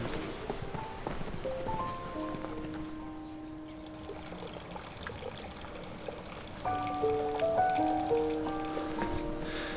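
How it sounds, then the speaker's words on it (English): A light drizzle falls on wet paths and steps outdoors in Heidelberg, Germany, making a soft, steady patter and trickle. Faint tonal sounds sit in the background, and the rain grows slightly louder toward the end. "There's just a slight drizzle of rain and the surfaces are wet"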